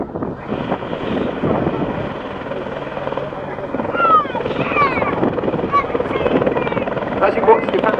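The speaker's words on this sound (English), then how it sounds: "As you watch the Apache move from right to left, you can see the helicopter's amazing hover performance." An Apache attack helicopter hovers and moves sideways with a loud, continuous rotor thrum and turbine whine that rises and falls slightly as it shifts position. A voice speaks over it.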